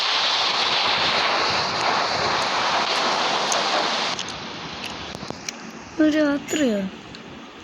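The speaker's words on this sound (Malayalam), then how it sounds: "ഇപ്പൊ മഴ പെയ്യുന്നു." Rain falls at night as a steady, loud broadband hiss that cuts off partway through, leaving quieter sparse background while a person speaks a few words.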